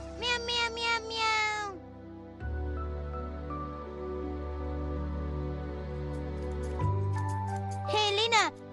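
A cartoon cat meows in bursts of rising and falling cries at the start and near the end, with a steady tone and a voice in between.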